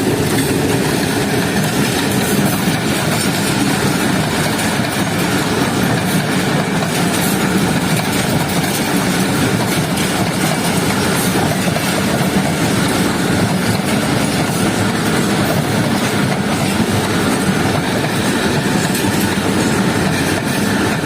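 A passenger train on a rural Sindh line, Mohen Jo Daro Express route, rumbles steadily toward a station with continuous loud rail noise and faint clickety-clack for the whole stretch, no voices.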